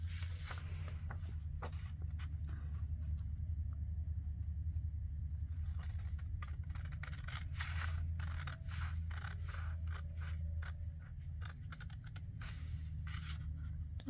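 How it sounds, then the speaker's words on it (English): Scissors snip steadily through material for a tri-fold folio, a run of close, crisp cuts over a constant low background rumble, with no talking. "Now, we'll cut out the other one."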